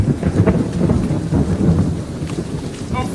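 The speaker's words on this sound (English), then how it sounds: "It will be a storm." A thunderstorm rumbles with low rolling thunder over steady rain pattering on surfaces, a continuous stormy wash that stays full and heavy throughout.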